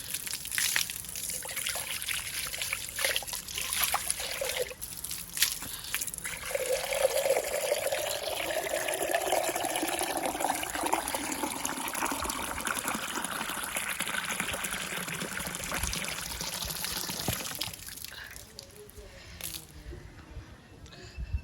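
Water poured into a clay pot in a home kitchen, a steady trickling and splashing that continues for most of the stretch, with people talking over it before it fades out near the end.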